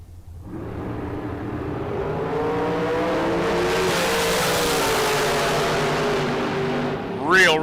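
Dragsters launching side by side at a high-stakes drag race, a loud sustained roar of engines building quickly and holding steady, with a sharp rising whine at the end and an announcer talking over it.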